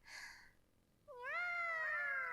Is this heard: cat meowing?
yes